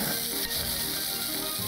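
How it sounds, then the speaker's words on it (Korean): Marinated beef short ribs sizzle loudly on a grill in a restaurant, a close, steady crackling hiss with no talking. "지글지글 소리만으로도 가슴 뛰게 만들고"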